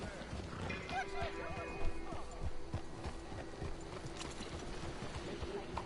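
Horse hooves clip-clop steadily at a moderate pace while riding through a town street in Red Dead Redemption 2, set in 1899, with faint ambient chatter and background sounds of the town around.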